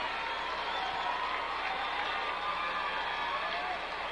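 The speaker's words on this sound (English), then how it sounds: "you're going to hear this crowd erupt" Crowd roaring at a 1997 high school Class CC state championship football final between Muskegon Oakridge and Vermontville-Maple Valley, a steady broad wall of cheering and shouting that holds loud and even throughout.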